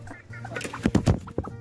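Several short clucks from chickens, close by, bunched in a quick burst near the end over soft background noise.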